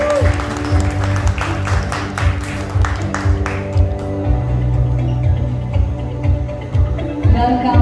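An audience at a press conference applauds continuously in a welcome for Sania Mirza and Shoaib Malik, the clapping dense at first and thinning out, with a steady hum from the room underneath.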